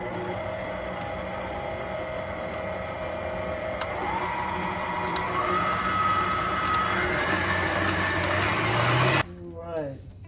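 Electric mixer beating cupcake batter with shortening and clear vanilla, a steady motor whine rising in pitch as speed increases, running close for about nine seconds before cutting off.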